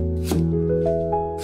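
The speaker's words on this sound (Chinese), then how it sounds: "切成薄片，" A knife slices a piece of peeled fresh ginger thinly, producing a few quick, close cuts over a light bed of background music.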